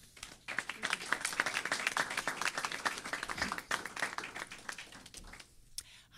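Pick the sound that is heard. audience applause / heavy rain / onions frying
audience applause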